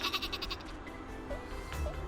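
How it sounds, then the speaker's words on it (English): Sheep weapon in Worms W.M.D. lets out a couple of short bleats over busy game sound, close and fairly loud, with no talking. "I deployed a sheep."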